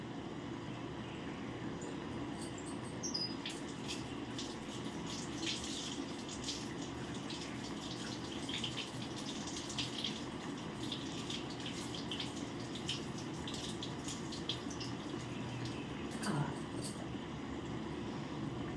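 Running water from a tap splashes steadily while curry leaves and coriander are rinsed by hand, a continuous close wash with faint clatter over it and no speech.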